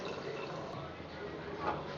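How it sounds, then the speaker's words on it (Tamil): Tamarind water is poured into a pot of okra puli kuzhambu curry, a short, steady close liquid pour with a faint dribble near the end. "புளி தண்ணி கரைச்சி ஊற்றியாச்சு"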